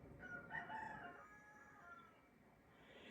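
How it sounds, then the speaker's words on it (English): Backyard chickens, including a rooster's crow, sound faintly in the background of a quiet indoor room, with a brief burst of calls early on before fading to soft ambience. "Did you hear my chickens in the background?"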